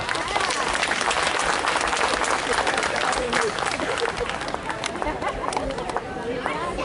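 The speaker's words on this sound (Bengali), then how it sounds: "আর একটু জোরে হাততালি দরকার।" Audience applause at a Basanta Utsav cultural programme in Pune, dense and sustained clapping from a crowd with some chatter mixed in, steady throughout and easing a little toward the end.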